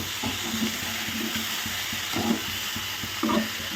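Cabbage and mixed vegetables frying in a pan with salt, a soft steady sizzle broken by a few bursts of stirring and scraping, heard up close.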